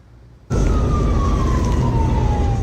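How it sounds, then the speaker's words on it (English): A wailing emergency vehicle siren starts abruptly and continues loud and close over heavy traffic rumble in Jacksonville Beach, its pitch sliding slowly downward. "Lights and sirens flashing everywhere."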